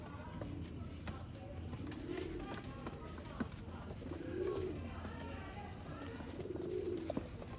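Sialkoti pigeons coo in a few soft, rolling calls spaced a couple of seconds apart, set against a rustling, busy outdoor background with faint knocks and movement.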